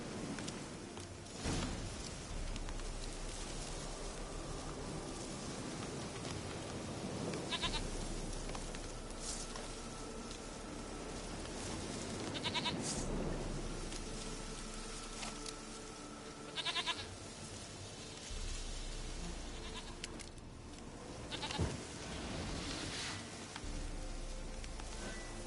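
A goat bleats several times in the Witcher 3 video game, its calls scattered across a steady ambient background with soft rain-like noise, at moderate distance.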